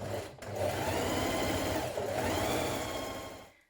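A sewing machine stitches the side seam of a sweatshirt sleeve in one continuous run of close, rapid mechanical whirring that slows and stops at the end.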